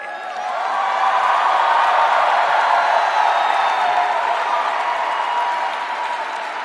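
A large crowd cheers and applauds at Bernie Sanders' 2020 campaign launch rally in Chicago: a loud, sustained wash of clapping and whooping that swells and holds for several seconds.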